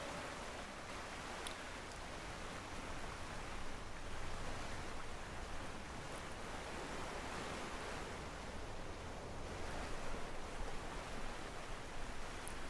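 Ocean waves wash around a sailboat at sea in the Sailaway III sailing game, a steady, faint rushing surf with no voices.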